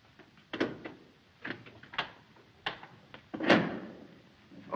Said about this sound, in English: Max, open the door.